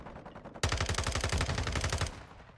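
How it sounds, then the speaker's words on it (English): A burst of rapid automatic gunfire from a hard-recoiling gun in Call of Duty MW2, loud and close, lasting about a second and a half after a quiet start, with no talk. "A lot of recoil on this gun"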